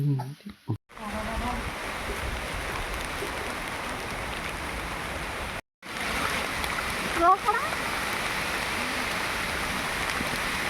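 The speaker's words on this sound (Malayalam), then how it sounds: "നല്ല മഴയുണ്ട് കേട്ടോ ഗൈസ്." Heavy rain pours down outdoors while people walk through it, a dense, steady hiss of falling water close around, broken by a couple of brief dropouts and faint splashes.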